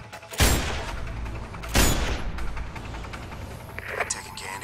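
Two heavy sniper rifle shots boom about a second and a half apart in the video game Sniper Ghost Warrior 2, with a lingering rumble after each, radio chatter and faint beeps at the end.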